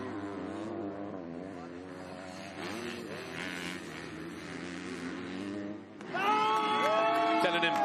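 A Red Bull KTM motocross bike races in MX2 at the 2022 MXGP of Turkey, its buzzing engine rising and falling in pitch as it revs between shifts, under a commentator's voice and faint crowd noise.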